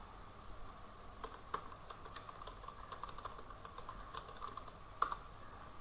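Quiet, uneven tapping of keys on a computer keyboard as text is typed into an Excel spreadsheet, soft close clicks in a steady patter with a few sharper presses.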